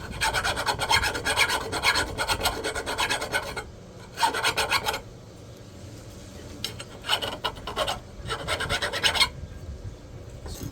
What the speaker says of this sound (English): Use a rougher one first, maybe. Yeah, it's not working. The file's a little dull.